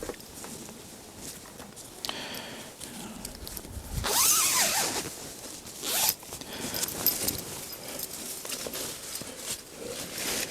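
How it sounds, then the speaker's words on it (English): A fabric zipper on a winter cover for a fig tree is pulled in a short burst, with rustling material and shuffling before and after, close to the listener, outdoors in a garden. "Has a zipper up one side here."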